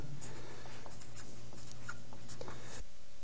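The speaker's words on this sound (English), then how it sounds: "I'm going to write something down" Pen or marker scratching across a board by hand, a run of short strokes in a quiet classroom, fairly faint with a low steady hum beneath and no talking.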